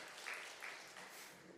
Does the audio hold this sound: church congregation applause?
yes